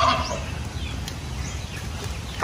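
Wet chicks in a cage, with faint high peeps and chirps scattered over a low background rumble outdoors.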